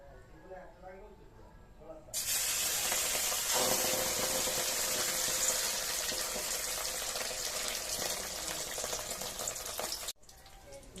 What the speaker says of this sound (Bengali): ডিমটা ভাজা হচ্ছে তেলের মধ্যে কেমন